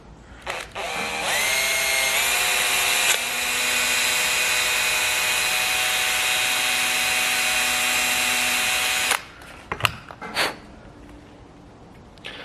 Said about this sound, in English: So I hope I drill it straight.